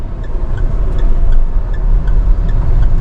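From inside a car creeping through a U-turn in first gear on a half-released clutch, a low, steady engine rumble hums continuously at near idle.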